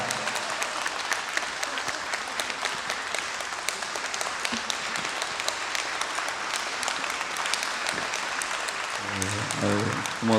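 A church congregation at a summer revival service applauds and cheers to welcome a pastor, dense sustained clapping filling the room for the full stretch, with crowd voices mixed in.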